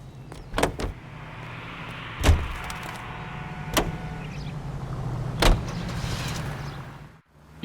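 A car in the video game L.A. Noire, with a steady low engine hum and several sharp clicks and thumps spread across the stretch, fading out abruptly at the end.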